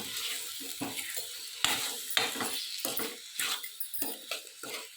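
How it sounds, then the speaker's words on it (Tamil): Chicken with rock salt, a little turmeric and chopped coriander being sautéed in a pan: repeated scraping stirs and clinks of a utensil over a soft, steady sizzle, close and fairly loud, with no talking. "இதை வந்து நல்லா வதக்கிக்கலாம்"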